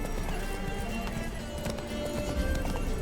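A horse gallops in The Witcher 3, its quick, steady hoofbeats drumming continuously under game ambience.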